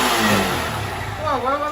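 A Honda Fan 160 motorcycle engine that makes noise under acceleration revs up briefly, a loud close rising tone over a rough idle, while people talk.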